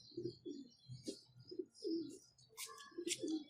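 A domestic pigeon coos nearby in a series of soft, repeated low coos, joined partway through by a few brighter chirps from other birds, all fairly quiet with no talking.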